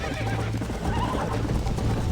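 Horse in the video game Red Dead Redemption, a loud neighing whinny over continuous hoof clatter and game ambience, with no talk.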